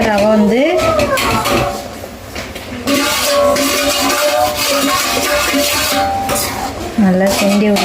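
A utensil scrapes and clinks against a pot, stirring roasted semolina (rava) into boiling water. The rhythm of the strokes is steady and close, with a voice talking over it.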